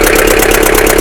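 Abandoned Bedford engine, a barn find, running roughly on about three cylinders: a loud, close, uneven idle with a rapid pulsing beat throughout, alone without voices.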